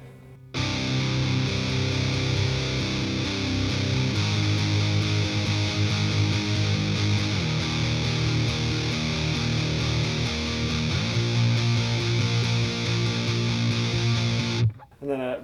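A heavily distorted electric guitar riff in drop C: open-string chugs alternating with fretted notes, loud and continuous for about fourteen seconds, played alone, ending abruptly.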